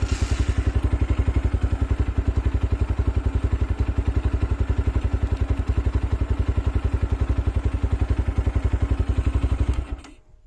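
A Spark SP300 motorcycle engine running steadily after starting, a fast, even chugging thump throughout, close and loud, before cutting off abruptly near the end.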